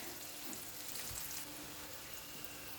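Finely chopped onions fry on a low flame in a pan, giving a faint, steady sizzling hiss with a few soft stirring bumps.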